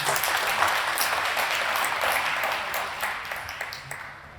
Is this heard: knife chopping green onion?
no